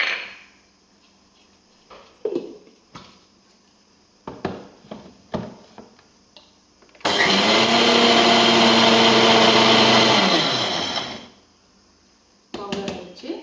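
A kitchen mixer grinder powders sugar with cardamom in a mixie jar, roaring loudly and steadily for about four seconds after scattered clinks and handling noises.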